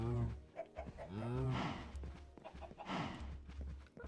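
Cows on a cow farm in a Minecraft server mooing in several low, drawn-out calls, overlapping and close, with a steady background hum between them.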